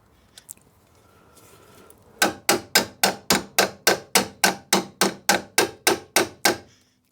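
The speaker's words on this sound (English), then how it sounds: "Hit it with a hammer." A hammer strikes a part on a Rover 75 car in about fourteen loud, evenly spaced metallic blows after a quiet start.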